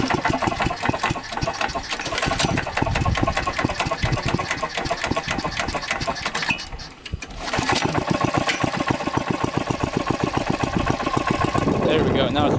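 A Yamaha YZ 490 dirt bike engine is kicked and fires up, settling into a loud, rapid two-stroke putter that runs steadily close by, with a brief dip partway through before it revs on.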